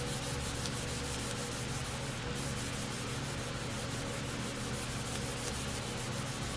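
Primer is sanded with 3M Cubitron sandpaper under dust extraction, giving a continuous, even abrasive rubbing hiss with a steady low hum beneath, close and unbroken throughout.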